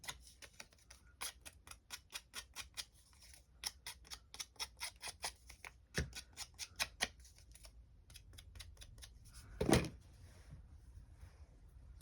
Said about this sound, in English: just with my scissors